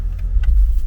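A Ford Mustang 5.0 V8 ticks over at idle, a close, steady low-pitched rumble with slight uneven pulsing and a couple of faint clicks on top.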